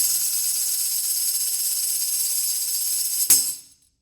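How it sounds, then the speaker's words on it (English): A tambourine shake roll, made by rotating the instrument quickly back and forth, gives a continuous bright shimmering jingle that ends in a single accented hit and a brief decay to silence. "A shake roll is essentially rotating the tambourine back and forth around the forearm"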